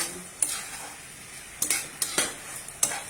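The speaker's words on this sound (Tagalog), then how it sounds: "Haluin ko. Haluin tayo" Pork steak being stirred in a pan at home, a few sharp scraping and clinking strokes of a utensil against the pan spaced apart over a faint background, with no talk.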